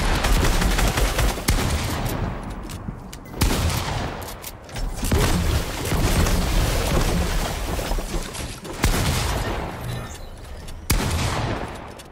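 Loud, dense bursts of automatic gunfire in Fortnite hammer at player-built structures, rapid volleys repeating with brief gaps across the whole stretch, sharp and close with no talking.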